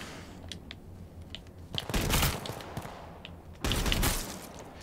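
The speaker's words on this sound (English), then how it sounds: "I don't know where that gunfire is coming from." Scattered cracks of distant gunfire in the video game H1Z1 on PS4, with two louder bursts of shots standing out against a quiet background.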